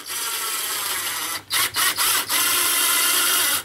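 A ratchet tool drives a screw into an empty wall cavity in a tiny house, giving a steady close-up whirring buzz broken by a few quick stops and restarts before running on.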